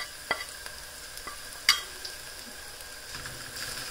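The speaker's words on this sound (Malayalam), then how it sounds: "ഇനി നന്നായിട്ട് മൂപ്പിക്കുക." Spice powders, including coriander powder, being stirred and fried in a pan for Kerala-style beef biryani, with light scraping stirs and a couple of sharper clinks over a soft, faint sizzle.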